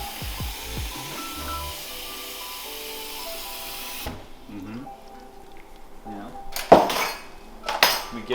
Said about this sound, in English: We get our scales out